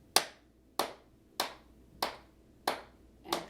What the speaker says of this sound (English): So can you clap your hands with me?